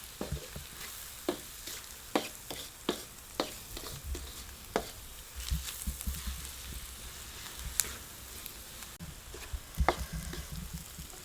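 Semolina and spices fry gently over a low flame, giving a steady soft sizzle marked by sharp clicks and scrapes of stirring at irregular intervals, with no talking.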